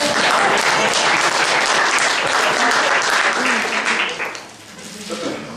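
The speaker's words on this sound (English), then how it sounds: "you owe yourselves a round of applause for that" Audience applause breaks out loud and dense, a sustained wash of clapping that fades out near the end as a voice starts to speak.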